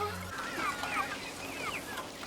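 Chickens cluck in a farm coop with a chain-driven feeder, several birds giving short rising and falling calls at moderate distance over a steady low mechanical hum.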